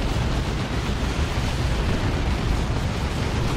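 Space Marine Devastator squads opening fire in Dawn of War 2, a Space Marines versus Orks match: a dense, continuous roar of heavy weapons fire and explosions, loud and steady throughout with no talk.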